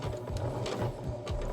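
A sewing machine stitching down the basted pleats of a fabric face mask, giving a short burst of quick rhythmic mechanical thumps close by.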